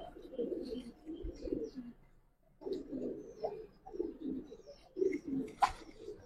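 Old-breed Giribaz pigeons, a male and female pair in a loft, coo softly in repeated low rolling phrases with short gaps, quiet and close with no talk over them.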